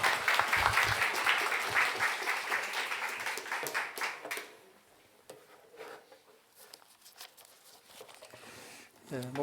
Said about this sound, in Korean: 우리 박수로 영광의 박수 올리시겠습니다